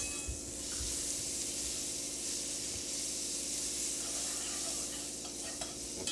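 Butter and oil sizzle softly together in a hot pan, a steady faint hiss with light whisking scrapes throughout.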